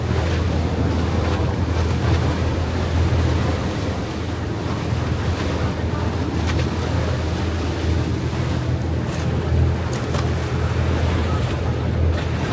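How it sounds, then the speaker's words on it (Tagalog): Sea waves and wind during island hopping by boat around Guimaras wash steadily past, a continuous rushing roar with wind buffeting the microphone and faint voices underneath. "Alon."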